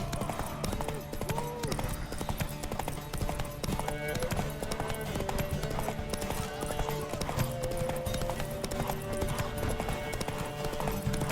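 Clip-clop of horse hooves at a gallop during a horse race in The Witcher 3: Wild Hunt, a rapid steady beat running beneath a layered game soundtrack and ambient effects.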